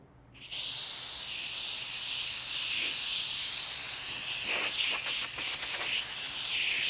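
Compressed air blown over a car door panel before dent repair, a sudden loud, steady hiss starting after a brief quiet and running on close up, with a few short bursts near the end.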